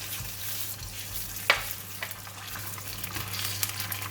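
Red curry paste fries in hot cooking oil with a steady, close sizzle, broken by a few sharp clinks and scrapes of stirring.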